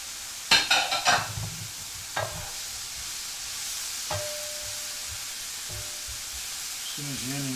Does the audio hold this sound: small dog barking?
no